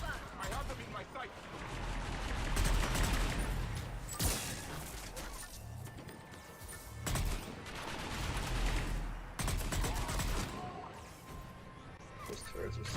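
Heavy turret gunfire in the video game Mass Effect 3, sustained booming bursts and crashes over about thirteen seconds, loud and dense, mixed with game voices talking.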